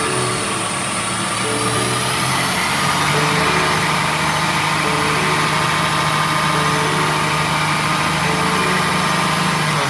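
A BMW 440i held in 4th gear on a dyno gives a steady, loud, even engine drone with a constant tone and no break for ten seconds.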